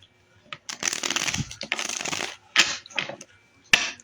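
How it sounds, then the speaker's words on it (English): A deck of cards is shuffled up close in several quick riffling bursts, each ending in a sharp snap, with short pauses between them. "So I'm gonna shuffle these cards 3 times."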